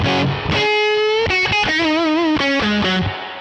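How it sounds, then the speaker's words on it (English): A heavily distorted electric guitar through an amp plugin plays sustained notes and slides, loud and saturated, with a fuzzy, buzzing tone. "now let's turn that level up. Like it goes into instant distortion"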